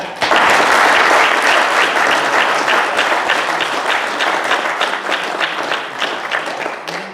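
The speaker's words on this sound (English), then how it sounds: "we'll give him some applause just for that" A lodge audience at an officers' installation ceremony breaks into loud, sustained applause, many hands clapping densely and close, easing slightly toward the end.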